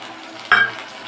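Tomato paste poured into a pan of fried potatoes and asafoetida for a green jackfruit kofta curry sets off a sudden sharp sizzle that quickly settles into a quieter hiss.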